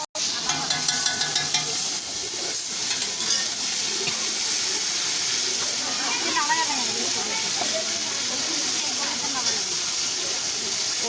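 Food being stirred and fried in a pan with a spatula at an outdoor New Year's picnic: continuous sizzling hiss with scraping strokes throughout, close and fairly loud, while people talk over it.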